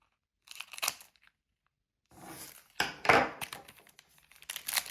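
A Pokémon card booster pack from the Aventures Ensemble set is torn open close by, with sharp crinkles and ripping bursts of foil separated by short pauses, the loudest tear coming about three seconds in.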